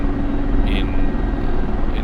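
Mi-24 helicopter rotor in the DCS flight simulator, a steady, loud low throbbing drone filling the whole stretch, with a brief higher whine near the middle and faint talk beneath.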